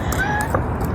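A house cat gives a single short meow, close by and clear, over a low background hum, lasting about a second.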